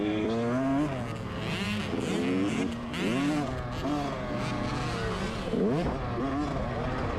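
A dirt bike engine revs hard on a motocross track straightaway, its pitch repeatedly climbing and dropping through gear changes, loud and up close, with possible faint voices underneath.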